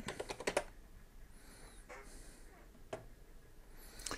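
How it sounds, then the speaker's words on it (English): A few quick keystrokes on a computer keyboard, typing a library search term, sound as soft close clicks at the start, then only faint isolated taps in a quiet room. "in here, just type the word Wombat"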